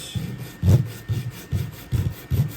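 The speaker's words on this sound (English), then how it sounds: "the easiest way to do that is just take just a little piece of sandpaper, fine sandpaper" Fine sandpaper rubbed along the bottom edge of an HO scale model garage, six rhythmic scratchy strokes close up, fairly loud, with no speech.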